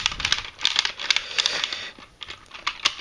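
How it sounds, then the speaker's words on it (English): A plastic Lost Galaxy Megazord toy gives off quick, close clicks and ratchety snaps as its arms are moved back and forth, in irregular bursts with no voices. "you can move his arms back and forth. But that just kind of makes that annoying clicking sound."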